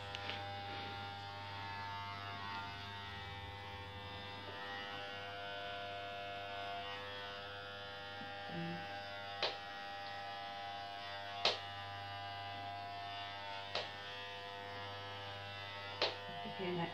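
Electric hair clippers shaving a head at a charity head-shave, giving a steady close buzz with faint hum throughout and a few sharp clicks, while people talk softly nearby.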